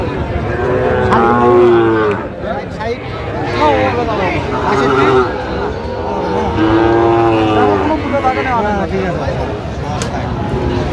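Sahiwal cattle at a cattle market near Dhaka let out several loud, drawn-out moos close by, while people talk and bargain around them.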